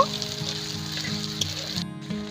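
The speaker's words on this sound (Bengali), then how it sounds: "এবার নেড়ে নিয়ে পেঁয়াজ কুচি হালকা করে ভেজে নেব" Chopped onion frying in a pan, a steady close sizzle with faint stirring scrapes through it, briefly dropping out near the end.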